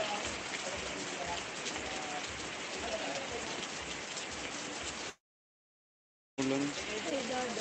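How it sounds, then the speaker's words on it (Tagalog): Steady rain patters on a surface, dense and continuous at moderate distance, breaking off briefly into silence before resuming. "Ulan."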